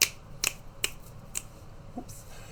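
Fingers snap four times at a steady pace, crisp close clicks standing alone in a quiet room, demonstrated as body percussion.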